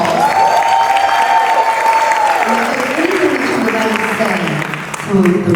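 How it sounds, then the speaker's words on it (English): An audience applauds at a Mothers In Music honorees event, a dense, sustained round of clapping with some cheering, under a voice speaking over it. "can we just give her another round of applause?"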